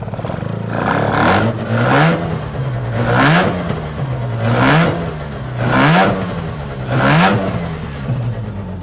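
A Mazda RX-7 rotary engine, running poorly on hot fuel, idles roughly and revs up again and again in a regular rhythm, each rise and fall lasting about a second, close and loud.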